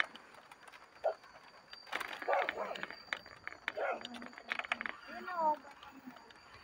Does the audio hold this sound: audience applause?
no